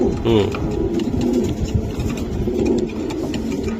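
Racing pigeons in cages at a loft coo softly in the background, under someone talking loudly nearby, with a low engine-like rumble beneath.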